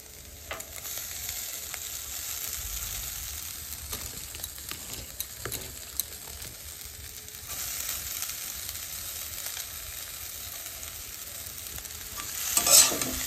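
Chow mein stir-frying with spices and turmeric in a hot pan, a constant close sizzle and hiss with scattered spatula scrapes and clinks throughout.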